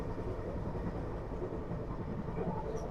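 Janshatabdi Express passenger train on the Sambhajinagar to Mumbai CSMT route, running through green country in Maharashtra near Igatpuri: a steady, continuous low rumble of rolling coaches, close and even, with no talk.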